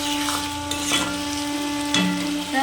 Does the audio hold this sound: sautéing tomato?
yes